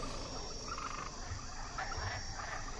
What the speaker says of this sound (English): Ask Jehovah to take away the frogs.